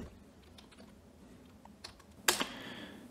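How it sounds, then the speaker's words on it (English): Keystrokes on a computer keyboard while entering a command at a Windows command prompt, a few faint scattered taps followed by a brief louder burst of clicks near the end, heard alone against a quiet room hiss. "So now if we type in Python"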